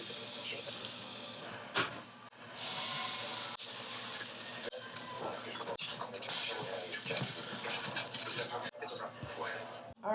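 Eggs fry in a pan with a steady, close hiss and sizzle, broken by occasional clicks and scrapes.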